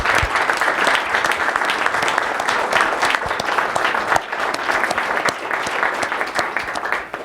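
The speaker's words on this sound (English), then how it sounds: "Please give these folks a round of applause." Steady applause from a breakfast forum audience fills the whole stretch, dense and even with no break, close and loud throughout.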